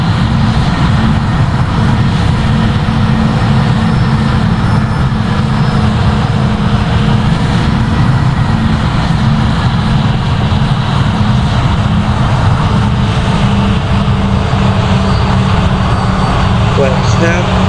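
British Airways Airbus A320 engines in the Project Flight game on approach to Punta Cana from Cibao, a steady, loud broadband jet roar droning throughout with no break.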